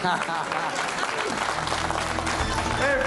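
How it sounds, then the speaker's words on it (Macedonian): Dense applause from a crowd, steady clapping throughout, with voices talking over it. "Го испраќаме со аплауз во битка"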